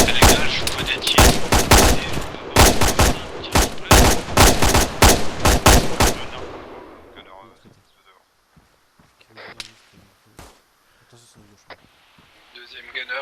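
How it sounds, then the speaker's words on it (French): Rapid bursts of gunfire in the Arma military video game crack loud and close for about six seconds, then fade to sparse distant shots and faint movement over a quiet background. "Les gars, je vois des tirs."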